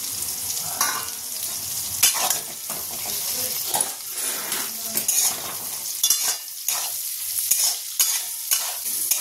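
Soybeans frying with garlic, green chili and onion in a pan, a continuous sizzle broken by scraping stirring strokes and occasional clinks of the utensil, close up with no talking.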